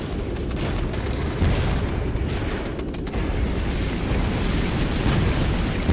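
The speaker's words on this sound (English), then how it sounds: "So the napalm's doing a decent chunk of damage." Napalm dropped by SU-17 jets bursts across the battlefield in the Regiments war game, a continuous rumbling roar of explosions with heavier booms swelling now and then, loud and sustained.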